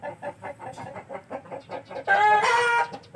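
Aseel Parrot chickens gathered together in the afternoon, clucking in a steady rhythmic series of short calls, then a louder, longer rooster-like call near the end, fairly close with no talking.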